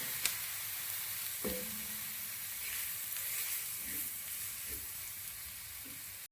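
Gram flour and rice flour roast in hot oil for a Konkan-style tawa-fried crab recipe, giving a soft, steady sizzle broken by a few light stirring scrapes, with no talking.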